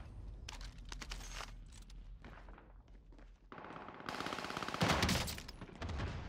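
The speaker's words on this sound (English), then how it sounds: "Since I am using an SMG in this Warzone Trials, I'm just going to stick to SMG ground loot." SMG fire in the video game Warzone, heard as bursts of rapid shots mixed with game noise, louder and denser toward the end.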